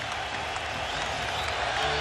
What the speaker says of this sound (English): Oh, this crowd fired up.